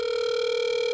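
A smartphone app's call button sets off a steady, loud ringing tone that holds unbroken throughout, with no voices.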